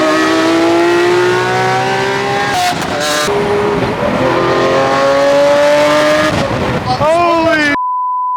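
A Lamborghini SVJ supercar engine revs hard and climbs through the gears, loud and close, with a brief shift break midway and a final surge before it cuts off.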